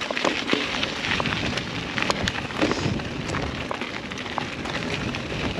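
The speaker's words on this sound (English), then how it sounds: "There's a bit of rain out, but I think it should pass" Steady rain patters outdoors in wet wilderness near Queenstown, Tasmania, a dense broadband hiss with scattered sharper drops close to the microphone.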